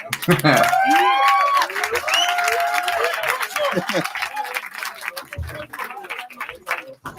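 Crowd at a rap battle event breaking into applause, with excited shouts and voices loud at the start, then a dense run of claps continuing under talk and tapering toward the end.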